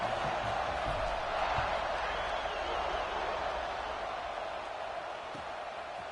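Stadium crowd noise in a college football video game, a steady broad roar of spectators that holds evenly throughout, with commentary faintly present.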